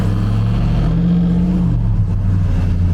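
Ram TRX pickup truck engine responds to a light throttle tap with a deep, loud rumbling rev that rises and settles, close by and without talk.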